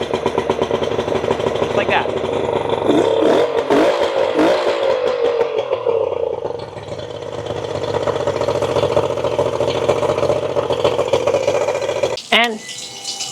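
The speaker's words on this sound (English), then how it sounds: "this is how one of the most reliable two-stroke engines ever made should start" A two-stroke outboard motor starts and settles into a steady, buzzing idle close by, running continuously with slight revving, while someone speaks briefly over it.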